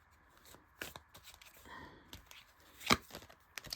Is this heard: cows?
no